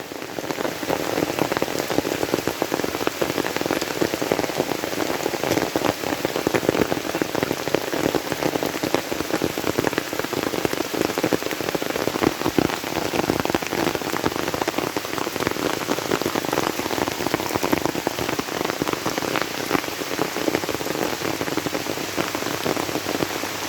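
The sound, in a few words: rain falling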